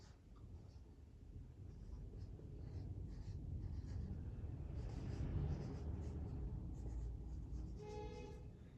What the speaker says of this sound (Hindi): अभी मैं लिख देता हूँ यहाँ